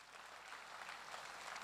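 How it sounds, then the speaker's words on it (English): Faint, steady applause from an audience at a formal tribute night honouring a bank founder, a dense wash of clapping held at an even level for under two seconds, with no voices standing out. "And please, a round of applause for this woman."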